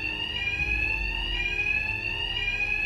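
A fire alarm rings steadily in the Batman: Arkham Knight video game, a loud continuous electronic tone that holds level and unbroken, without speech.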